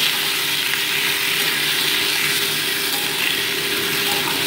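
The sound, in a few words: sautéing chopped tomatoes with mustard seeds in oil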